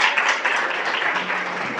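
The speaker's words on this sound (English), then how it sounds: "So please give him a warm welcome and a round of applause." Applause from a university lecture audience welcoming a speaker, a dense steady wash of many hands clapping at moderate loudness throughout, with no voices.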